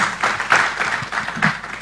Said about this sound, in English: another round of applause for Alhaji, please